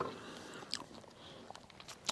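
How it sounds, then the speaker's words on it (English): Close, crisp crunches of a muesli bar being bitten and chewed at a cold winter campsite: a few sharp, brittle bites spread over about two seconds, quiet and alone. "We've just got the lovely crunch of the muesli bar"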